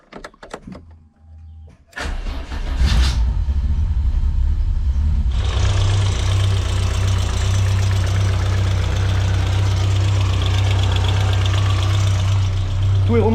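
A Renault Clio Williams 2.0 16V being brought back to life: a few quiet clicks and handling noises, then the starter cranks and the engine catches, settling into a loud, steady close idle that runs to the end.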